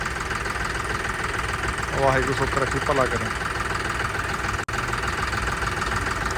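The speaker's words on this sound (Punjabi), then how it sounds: "ਟਰੈਕਟਰ ਆਵਾਜ਼ ਬਹੁਤ ਪਿਆਰੀ ਆ ਬਾਈ ਟਰੈਕਟਰ ਦੀ" A John Deere 5210 tractor engine idles with a steady low chug throughout while someone speaks over it briefly.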